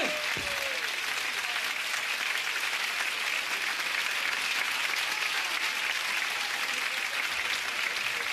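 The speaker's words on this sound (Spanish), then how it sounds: "quiero que esta mitad le dé un aplauso bien grande a esta mitad" Sustained applause from a restaurant audience at a Sandro tribute show at Restaurant San Remo, steady and dense throughout with no pauses, from a crowd filling the room.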